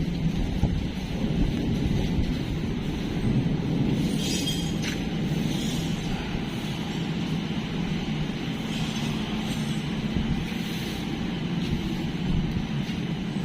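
A heavy rain and strong wind storm in Bhubaneswar roars as a dense, continuous wash of downpour and gusts, with a few sharper rattling bursts and no talking.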